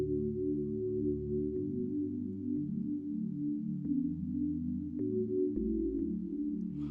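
A soft synthesizer pad sustains low, smooth chords in a gospel piano arrangement, shifting every second or so, quiet and alone with faint clicks.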